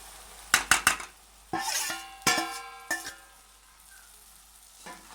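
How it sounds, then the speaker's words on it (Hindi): Fried okra (bhindi) and green chillies go into a pan for a spiced bhindi dish. A spoon scrapes and clanks against the metal pan several times over a soft sizzle, with sharp ringing knocks in short bursts, close and loud. "अब हम इसमें डाल देते हैं अपनी फ्राई की हुई भिंडी और मिर्चें"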